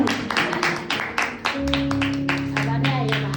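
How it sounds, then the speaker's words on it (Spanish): A crowd claps in a loose, rapid rhythm, with a sustained tone and a voice rising underneath partway through. "Un aplauso"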